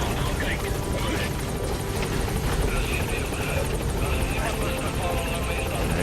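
A support helicopter in Metal Gear Solid 5 approaches over a mine area, a loud, constant rotor roar with a high buzzing whine that fills the whole stretch.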